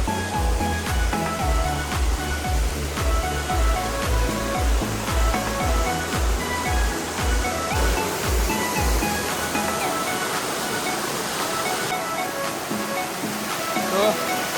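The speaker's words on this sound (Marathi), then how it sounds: "वॉटरफॉलचं पाणी वाहतं" The Karjat waterfall near Vadap pours in a loud, continuous rushing roar close by, while people talk over the flowing water.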